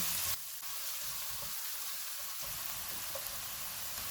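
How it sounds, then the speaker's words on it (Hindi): Onion and cumin fry steadily in hot oil over a low-to-medium flame, a continuous broadband sizzle that holds at an even level for about four seconds with no talking. "एक प्याज डालेंगे, इसको 2 मिनट तक भूनेंगे।"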